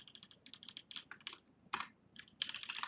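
Quick bursts of typing on a computer keyboard, soft close keystroke clicks in uneven runs with brief pauses, alone in a quiet room.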